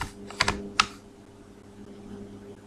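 A few quick keystrokes on a computer keyboard as a search term is typed: three short taps close together near the start, then a steady quiet hum with no further typing.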